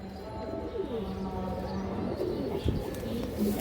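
Soft, low cooing from pet pigeons, a pair of male and female birds, rising and falling in short rolling phrases over a steady background hum, with a brief knock near the end.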